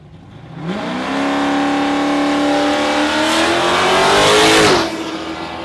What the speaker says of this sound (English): How about the F-truck? How about that thing getting the front off the ground like that?